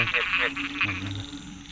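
Frogs croaking in water on the night of the year's first rain, several overlapping calls close by, with rapid pulsed trills and a lower droning croak, repeating loudly.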